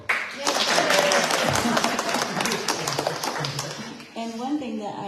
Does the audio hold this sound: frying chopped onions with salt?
no